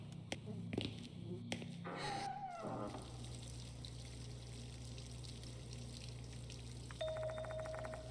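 Running water in a restroom in Spirit Hunter: Death Mark II, a faint steady trickle under a quiet ambient hum, with a few brief clicks and a short tone near the start and end.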